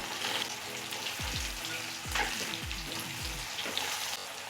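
Bitter gourd bhaji frying in a pan, a soft continuous sizzle with a few low scraping stirs and clunks of the spatula midway, fairly quiet and with no talking.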